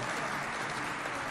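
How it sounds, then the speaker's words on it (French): Applause for two competing high school teams, Lycée Moderne Le Patriote and Lycée Les Excellents, at a school quiz contest; a short, steady wash of clapping from the audience. "On applaudit bien fort pour les deux équipes."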